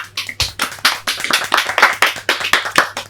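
A small group of people clap their hands together in a quick, irregular burst of sharp, close slaps lasting a few seconds, with no voices over it.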